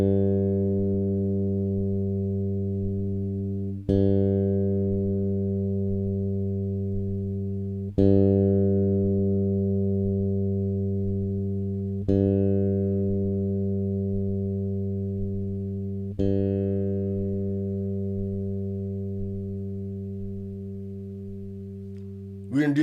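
A bass guitar open string is plucked as a tuning reference, five sustained notes spaced about four seconds apart, each left to ring and slowly decay, heard alone.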